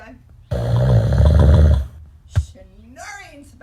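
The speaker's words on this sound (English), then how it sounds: "Snoring spouse." A spouse snores once, a loud rasping snore lasting over a second, followed by a short sharp grunt and then faint talk in the background.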